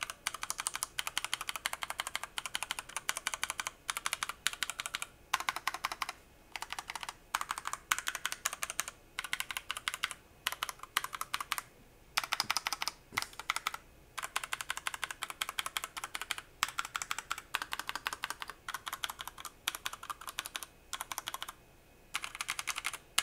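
Steady typing on a clacky Zifriend ZA646 mechanical keyboard: fast, crisp key clicks in bursts with short pauses, close and fairly quiet, with no voices.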